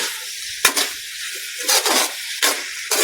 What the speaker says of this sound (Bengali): আলুগুলা দিয়ে সুন্দর মতো কষিয়ে নিব।